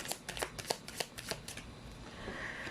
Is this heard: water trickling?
no